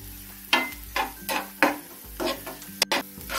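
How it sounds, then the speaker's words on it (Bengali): Chopped capsicum gets stirred into cauliflower Manchurian in a pan: a series of sharp scraping spatula strokes, roughly two per second, over a faint background sizzle. "ক্যাপসিকামটা দিয়ে একটু নাড়াচাড়া করে নিলাম।"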